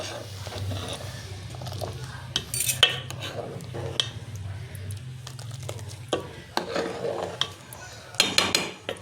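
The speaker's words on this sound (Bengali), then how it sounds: "মিষ্টিটা বুঝে দেবো, এবার একটু নেড়ে দেবো।" A spoon stirs chushi puli payesh in a pot after jaggery goes in, giving intermittent scrapes and metallic clinks against a low background hum, with a few louder knocks near the end.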